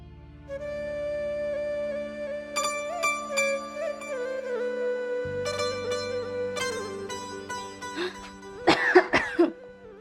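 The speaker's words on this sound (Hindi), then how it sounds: "कैसे खांस रही थी?" A woman coughs several times near the end, following a stretch of music.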